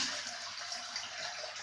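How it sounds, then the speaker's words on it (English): Warm water runs steadily from a tap into a bathroom sink being filled halfway, a continuous close hiss and splash with no breaks. "we run a hot warm water sink. Put water in it, half full."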